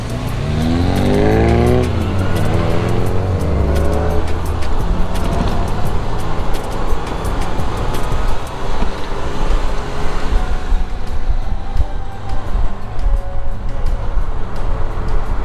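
An MG Midget sports car, a barn find fitted with new modifications and custom exhaust collars, drives along a road, its engine loud and close with steady revving and gear changes throughout.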